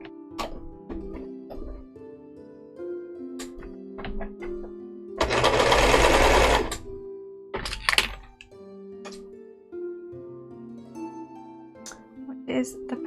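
A sewing machine stitching fabric for a cosplay costume, with short bursts of stitching and one longer loud run, interrupted by clicks and thunks between passes.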